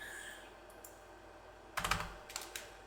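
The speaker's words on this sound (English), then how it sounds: "there's gonna have to be a lot of typing now" Keyboard typing arrives in a quick burst of clattering keystrokes after a quiet stretch, followed by a few more scattered taps, close and fairly soft.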